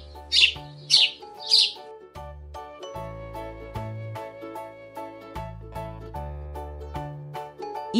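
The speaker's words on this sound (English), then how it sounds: "Sparrow." A sparrow gives three short, bright chirps in a quick even row, followed by gentle tinkling background music.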